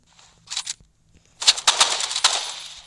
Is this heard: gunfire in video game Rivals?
yes